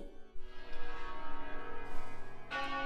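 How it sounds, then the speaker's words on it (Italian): Church bells ring out in sustained, overlapping tones, a resonant swell beginning after a brief quiet and carrying steadily at moderate distance, with no talking over it. "Le campane."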